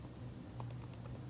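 An IP address is typed on a laptop keyboard, a quick run of about seven soft, light key clicks over a faint background hum, with no voices.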